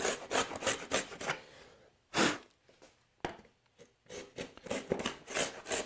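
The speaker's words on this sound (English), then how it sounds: "This is what 360-degree turn on the router plane is like. It's still cutting, but you can see it's a coarser cut" Router plane cutting across wood in coarse back-and-forth strokes, a series of close, rough scraping rasps with short pauses between, fairly quiet.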